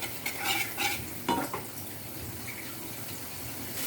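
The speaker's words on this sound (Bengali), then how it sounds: "এটা ভালো করে মশলাটা কষাতে হবে যতক্ষণ না তেলটা ছেড়ে আসে।" Spice paste being fried and stirred in oil for a Bengali muri ghonto, a steady sizzle with a few scraping stirs near the start and middle, close and fairly quiet.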